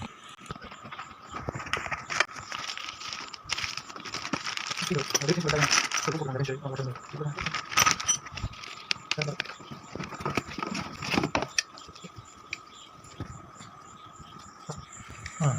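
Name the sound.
unboxing a Bosch GDC 121 marble cutter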